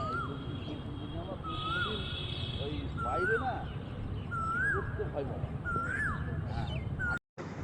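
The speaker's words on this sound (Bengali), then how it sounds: "কি মিষ্টি মধুর কোকিলের আওয়াজ" An Asian koel calls repeatedly outdoors on a warm overcast day, its rising whistled notes spaced a second or so apart over a steady bed of background noise and other faint bird chatter.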